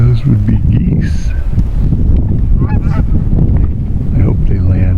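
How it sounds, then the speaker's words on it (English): A flock of geese flies over open desert, their honks repeating loudly and overlapping in an irregular chorus against steady wind noise, with a person speaking over them. "Those would be geese."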